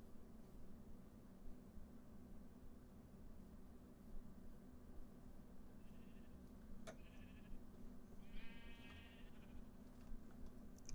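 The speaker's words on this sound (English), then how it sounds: "there's a lot of sheep here." Sheep bleat in a Minecraft meadow biome, a few short faint calls near the end over a steady low hum of game ambience.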